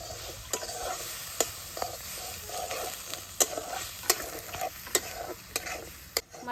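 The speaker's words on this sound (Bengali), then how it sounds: "একটু জল দিয়ে মশলাটাকে আমি ভালো করে কষিয়ে নেব।" Spice paste of chilli powder and salt sizzles and fries in a pan while a spoon stirs it, with steady crackling and sharp, regular scraping clicks throughout.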